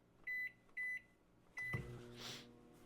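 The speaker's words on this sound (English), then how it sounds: "I'm going to toss it back in that microwave." A kitchen microwave oven sounds three short electronic beeps as cold cream is put back in to warm. The door clunks, and then the oven starts a low, steady running hum, quiet and close, with no one speaking.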